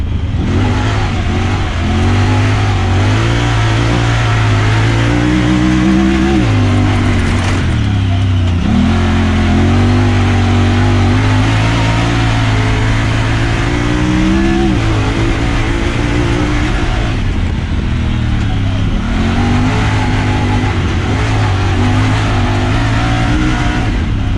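A 2020 Honda Talon 1000R side-by-side revs and surges across sand dunes in two-wheel drive, its engine loud and close with repeated rising and falling pitch sweeps as it shifts through gears.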